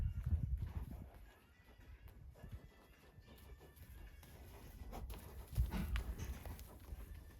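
Faint horse hooves clop at a slow walking pace on soft ground, with low rumbling background noise and a slightly louder step midway.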